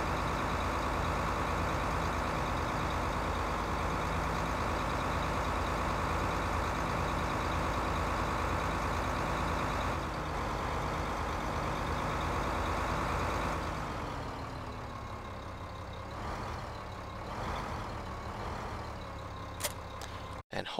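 Steady, loud diesel tractor engine drone in Farming Simulator 15, a constant low rumble that holds for most of the stretch, then drops in pitch and wavers through several revving swells near the end, with no talking over it.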